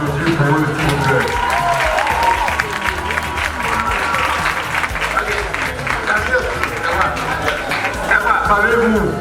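A large audience applauds a dance group at a Christian movement competition, with loud, dense, steady clapping and crowd noise filling the whole stretch.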